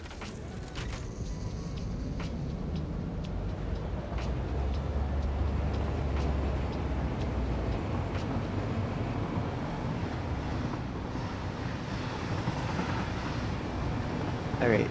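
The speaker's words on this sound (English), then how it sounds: "Let's go grab this train really quick." A train ride in the factory-building game Satisfactory, with a steady low rumble and rolling mechanical drone carrying on throughout, faint creaks and clicks over it, and no talk.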